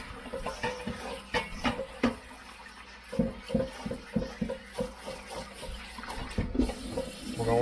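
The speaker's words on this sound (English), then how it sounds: "We're going to rinse them with cold water." Cold tap water runs over cucumbers drained for home-canned pickles, splashing and clattering irregularly in a sink with soft knocks of the produce, moderately close.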